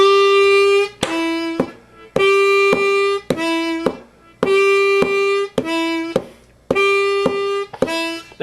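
A blues harmonica plays draw notes on the downbeats, a long sustained reedy tone alternating with a shorter lower one in a steady repeating pattern, loud and close with no talking.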